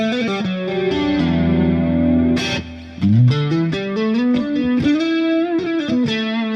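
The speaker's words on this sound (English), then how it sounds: "A little bit of a sort of clean chorus broken up." Electric guitar with a clean chorus tone, slightly broken up from a Nunchuck effects unit, playing a loud, sustained, shimmering phrase of chords and single notes with no talking.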